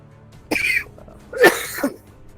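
Two sharp, explosive sneeze-like bursts a second apart, loud and close, with quiet room tone between them.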